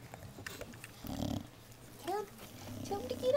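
Young puppies making soft whimpers and low growly grumbles, faint and close, scattered over quiet room noise with a few small squeaky yelps.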